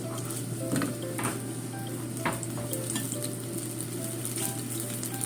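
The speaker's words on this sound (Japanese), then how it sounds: "弱火で混ぜて" Miso with ginger cooking in a pan over low heat is stirred, giving a steady soft sizzle broken by light scraping and clicking of the utensil against the pan, close and continuous.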